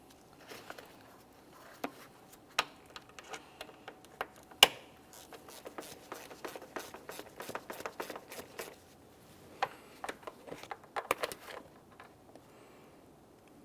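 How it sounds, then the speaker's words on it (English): Ratcheting T20 Torx driver working mounting bolts beneath a plastic panel on a 2017-2024 GMC Acadia, giving bursts of quick clicking taps and metallic ticks, close and fairly quiet, with no talking. "To remove these, we'll be using a T20 Torx head."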